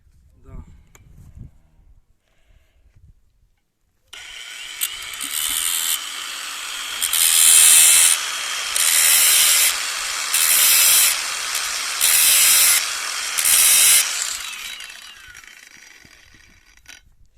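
Rhythmic bursts of harsh rasping as a file strokes across a saw chain, about six regular passes, loud and close, with quiet sounds before it.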